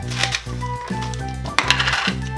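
M&M candies pour into a bowl of party mix with Andes mints and peanut butter cups, making a close, bright rattling clatter in two quick bursts over faint background music.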